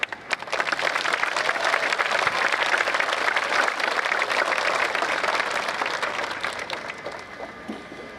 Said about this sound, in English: Join me in one more round of applause.